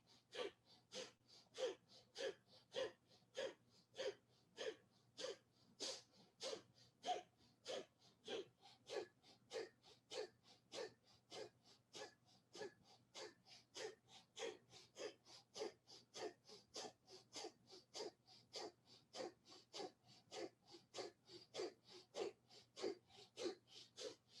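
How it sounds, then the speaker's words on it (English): Rapid, forceful rhythmic nasal breathing of breath of fire during a kundalini yoga exercise, steady quick pulses of exhale repeating for about half a minute, close and fairly quiet with no speech. "we'll do breath of fire. Begin."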